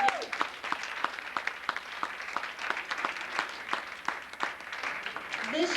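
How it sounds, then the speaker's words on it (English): An audience at a Pan-African celebration gives a round of applause, scattered distinct claps in a moderate, uneven rhythm at mid distance, with some voices mixed in. "Please give them all a round of applause"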